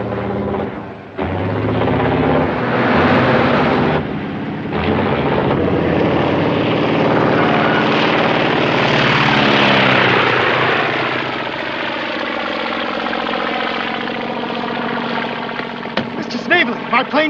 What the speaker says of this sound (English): My plane took off without me.